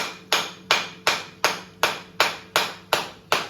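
Sharp, hard knocks strike in a steady rhythm, about nine blows spaced evenly, like a coconut shell being whacked open, close and loud.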